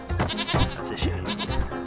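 A goat in a video game gives a shaky, laughing bleat that runs nearly two seconds, loud and close, with no talk over it.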